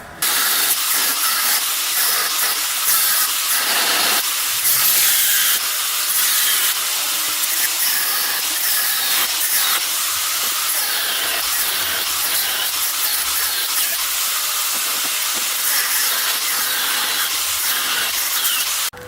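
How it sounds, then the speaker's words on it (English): Steel cross member pieces from a Nissan S13 chassis, being modified for a 2JZ engine swap, ground down with a grinder: one loud, harsh, continuous abrasive hiss that runs unbroken for the whole stretch with no talking. "next, grind those pieces."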